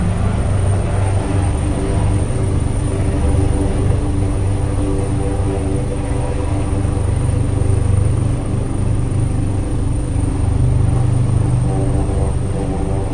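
A Mercedes G63 G-Class engine drones steadily and loudly from inside the cabin while driving, a continuous low rumble with slight swells and no speech.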